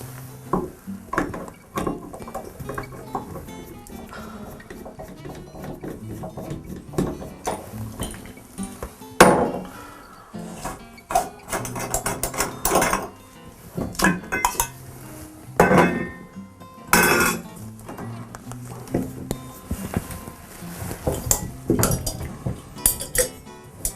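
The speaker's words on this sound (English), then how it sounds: "I'm going to go ahead and remove the trim now." Irregular metallic clinks, taps and knocks of shower valve trim being worked loose and removed, close by, with short pauses between bursts and no talking.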